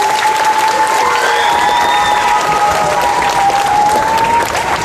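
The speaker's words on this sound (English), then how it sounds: "So let's give our volleyball players a round of applause." An audience at a high school awards ceremony applauds the volleyball players, dense sustained clapping that fills the room and continues at a steady level from start to finish, with a faint whistle mixed in.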